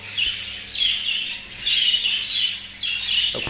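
Pet birds in a cage chirp and tweet in bright, rapid bursts, three clustered calls sounding close and fairly loud with short pauses between them.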